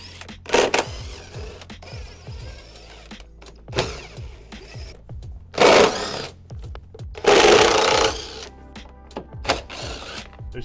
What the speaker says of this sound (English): using a T40 Torx bit, we're going to go around the top edge of the bumper and remove these screws